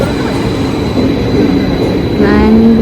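A Swiss train runs with a loud, steady rumble heard from close by, with wheel noise and a rising metallic squeal near the end.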